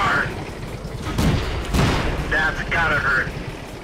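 Tank cannon fire in the World of Tanks video game, with two heavy booming shots about half a second apart, mid-distance, set among engine rumble and brief game tones.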